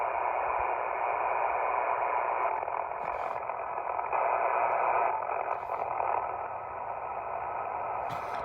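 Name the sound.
loud interference noise on 15 meter ham radio receiver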